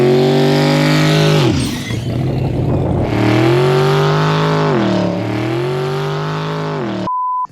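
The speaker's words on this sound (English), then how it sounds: "a mid-engine V8 with twin turbos on it" Mid-engine twin-turbo V8 custom truck revving hard, loud close engine notes that climb and fall through repeated throttle blips, with a gritty burst between rises, ending abruptly in a short electronic beep.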